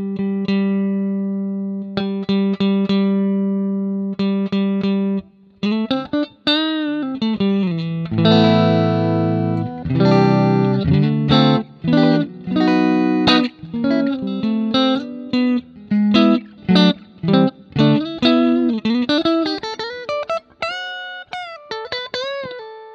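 Clean electric guitar tone in Amplitube 5 with plate reverb at the end of the chain plays a sequence of plucked notes and chords, each ringing out with a lush, lingering reverb tail, loud and alone.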